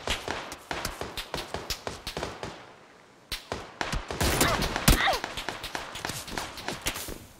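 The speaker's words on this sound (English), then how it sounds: "Getting shot in the back right now." Gunshots in the video game PUBG crack out in a rapid rhythmic string of sharp reports, pausing briefly before a denser, louder volley, with players talking over it.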